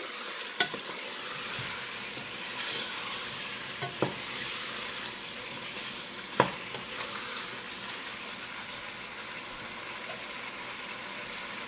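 Chicken karahi with tomatoes sizzling steadily in a pan, with a few sharp scraping clinks of a spoon stirring against the metal. No voices.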